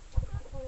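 A Plymouth Rock chicken clucks on a farm: two or three short, low clucks close by within under a second, with a faint tonal background sound.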